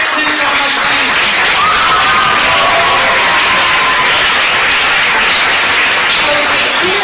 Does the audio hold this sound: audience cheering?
yes